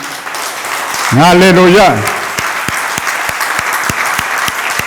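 Congregation at a church service bursting into applause and cheering for Jesus, a loud sustained swell of clapping with a sung-out shout over it, settling into scattered claps and murmured voices.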